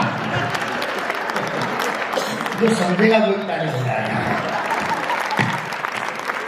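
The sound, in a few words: audience applause at a Hindi kavi sammelan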